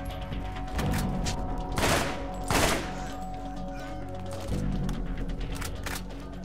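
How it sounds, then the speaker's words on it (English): Several loud gunshot bursts in the video game Borderlands crack out in sequence, a pair close together near the middle and another later, over a steady background hum. "Here, gunshots."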